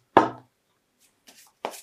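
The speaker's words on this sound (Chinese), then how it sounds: "顺便洗一下牌吧，顺序洗乱。" A deck of playing cards being shuffled to mix up the order: one loud, close riffling burst, then a pause and two softer, brief shuffling bursts, with no talking.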